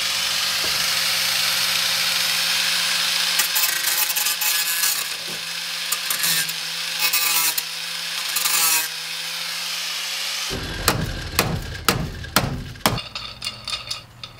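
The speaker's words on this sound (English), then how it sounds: "just take the hard grinder, kind of wedge it in between, and if I grind some of this piece off" A hand grinder cutting metal on a van first whines with a steady, buzzing tone, then bites into the workpiece with a loud, harsh scraping roar in uneven surges toward the end.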